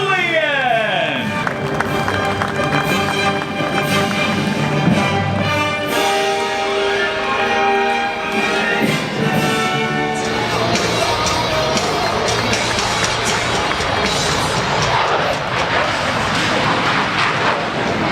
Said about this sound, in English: stand and make some noise as we bring Michael out of the cockpit